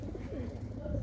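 Pigeon cooing close by in low, soft, rolling tones, with faint background murmur.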